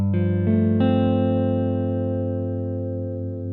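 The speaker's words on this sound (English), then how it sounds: "Bringing the intensity up brings the tremolo in a smooth manner." Electric guitar played through a Strymon Flint tremolo pedal with the intensity raised, a few chords struck in quick succession and left ringing with a smooth, pulsing volume wobble as they slowly fade.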